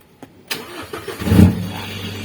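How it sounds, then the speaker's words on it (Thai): Isuzu D-Max 2022 pickup engine started with a push start button after pressing the brake, a short starter crank catching into a low steady idle, close and moderately loud with no talk. "ถ้าเราเปิด วิทยุฟังอยู่แบบนี้ แล้วแบตเตอรี่อ่อนเราต้องการสตาร์ทเครื่อง ไม่ต้องกดวนให้มันปิดพี่เหยียบเบรคเข้าไปเลยแล้วสตาร์ทเลย"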